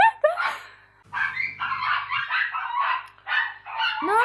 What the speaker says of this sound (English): Sorry, there was an interference by the dogs outside.